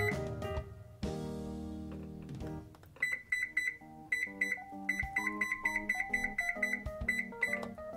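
Oven timer being set to thirty minutes while drying fruit at a low temperature, a rapid series of short electronic beeps after a brief tone, close and clear.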